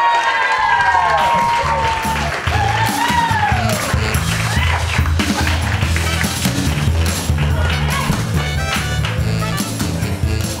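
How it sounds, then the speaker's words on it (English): Loud, steady applause from a stand-up comedy audience fills the room, with cheers and whoops layered over the clapping throughout. "Make a round of applause for Matt Hutter."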